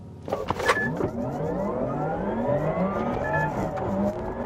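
Porsche Taycan GTS electric sports car launching hard with its electric sport sound switched on, a synthetic whine sweeping steadily upward in pitch as it accelerates, loud and continuous after a brief burst of noise at the start.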